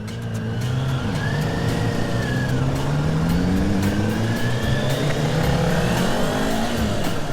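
Kawasaki sport bike engine on a demo ride, a loud continuous engine drone with rising and falling pitch as the rider shifts and accelerates, mixed with steady wind rush and no talking.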